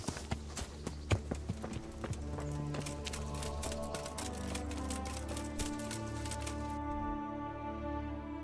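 Horse hooves clip-clop in the game Kingdom Come: Deliverance, a quick run of close hoof clicks over a steady bed of background music that carries on after the steps fade.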